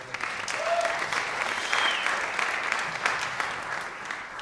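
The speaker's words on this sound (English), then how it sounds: "So give yourselves a round of applause, please." Concert audience applauding at a tribute show for a swing musician, sustained broad clapping with a couple of faint whistles, fairly even in loudness from start to finish.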